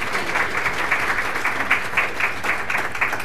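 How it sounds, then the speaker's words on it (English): An audience applauds to welcome a speaker to the stage, a steady warm round of clapping with a few louder individual claps standing out. "Let's give her a real warm round of applause."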